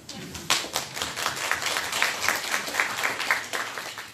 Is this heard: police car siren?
no